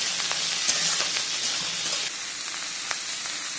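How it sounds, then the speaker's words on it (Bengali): Vegetables fry in a pan in a continuous bright sizzle with scattered pops and crackles, close and steady throughout, without any talk. "জাস্ট মোটামুটি একটু ভাজা হচ্ছে, আমি দিয়ে দিলাম বাকি সবজিগুলো"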